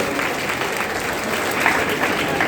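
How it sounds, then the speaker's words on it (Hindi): Steady, loud applause from a talk show audience at a school event, many hands clapping together in a dense, continuous wash. "जोरदार तालियों के साथ वैभव को निवेश करिए।"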